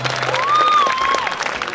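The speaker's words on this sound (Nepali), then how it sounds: "त्यस्तो ट्राफिकलाई जोडदार ताली बजाउनुहोस्" Audience applause at a live Nepali stand-up comedy show, a steady, fairly loud wash of clapping throughout, with a brief whistle-like tone rising over it.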